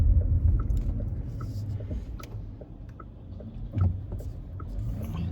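A big truck rumbles past nearby, a steady low, heavy roar that holds for several seconds and swells briefly near the end, with no talk.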